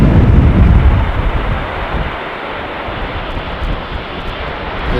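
An airliner landing on runway 18R at Amsterdam Schiphol in a crosswind, a loud, close roar of engines and rushing air that is strongest at the start and then eases into a steady rumble.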